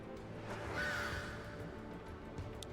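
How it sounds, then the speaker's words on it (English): A bird call from the video game Final Fantasy XIV Heavensward rings out once near the middle, clear and moderately loud over a steady bed of game ambience and music. "That's a bird!"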